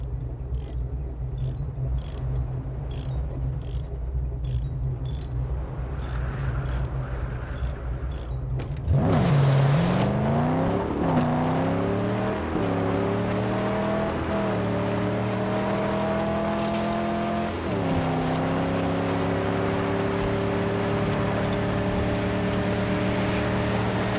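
A car's engine in the Mad Max video game idles with faint ticking, then bursts into loud acceleration, its pitch climbing through several gear shifts before settling into a steady drive, with no voices.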